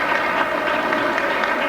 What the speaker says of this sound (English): she's still getting encouragement from the crowd, even though she's had an open frame